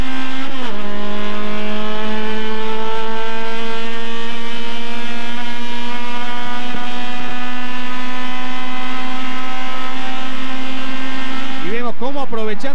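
Onboard a Turismo Pista Clase 3 race car on the straight at La Plata, a loud, sustained engine whine holding high revs throughout with rich harmonics, then a quick downshift burst near the end.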